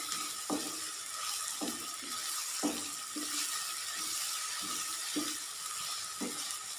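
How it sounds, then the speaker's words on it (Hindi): Sliced onions fry lightly in a pan for spicy okra masala: a steady close sizzle and hiss, broken every second or so by the scrape and clack of a stirring spoon. "प्याज को हमने ज़्यादा फ्राई नहीं करना, बस लाइट से हमने फ्राई करनी है।"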